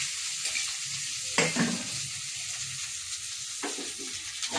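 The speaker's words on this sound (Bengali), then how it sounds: "পেঁয়াজটা বেগুনটা ভেজে নিচ্ছি" Onion and eggplant fry in soybean oil over a gas flame, a loud continuous sizzle broken by two bursts of scraping as a spatula stirs the pan.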